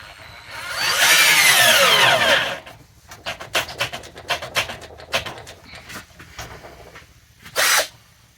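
A cheap Amazon cordless drill drives a lag bolt into wood without a pilot hole, first with a loud, strained whir, then a run of stuttering bursts as the bolt catches, ending in one short final spin.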